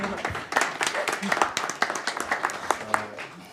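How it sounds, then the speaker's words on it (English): A burst of applause from a crowd, scattered claps blending into a steady patter that holds for a few seconds, with a voice briefly audible. "So can we give Paul a round of applause again?"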